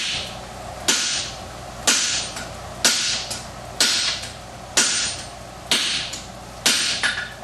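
A sledgehammer striking a flatter tool during blacksmith forging, with about eight sharp metallic blows landing at a steady pace of roughly one per second. Each blow rings briefly and decays before the next.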